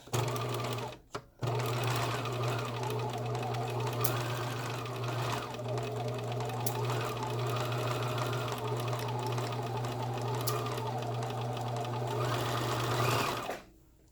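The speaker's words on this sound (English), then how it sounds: "So you want to make sure you backstitch." A sewing machine backstitches a seam sample, running with a loud, close, steady hum and rapid needle chatter. It stops briefly near the start, then runs continuously for about twelve seconds before cutting off.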